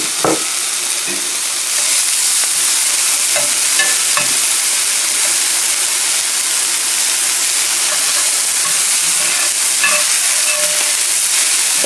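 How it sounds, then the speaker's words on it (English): Garden vegetables fry in an oiled skillet with a loud, continuous hissing sizzle that fills the whole stretch, with a few soft clinks and stirring scrapes close by. "Alright, so I have an oiled skillet here. Put my vegetables in there."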